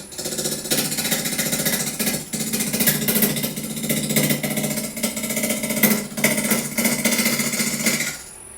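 A gouge cutting into a spinning wood blank on a lathe while rounding it, making a steady, loud, rough chattering drone that runs continuously at close range before cutting off near the end.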